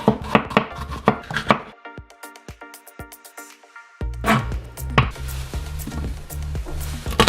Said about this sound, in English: I'm just gonna rough chop these